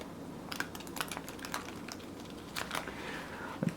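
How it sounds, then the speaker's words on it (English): Tarot-size cards in clear plastic card sleeves being riffle shuffled, a stiff slapping and ticking patter of sleeved cards with a few louder flicks, close and alone. "Let's see if a riffle shuffle works out well for these sleeves."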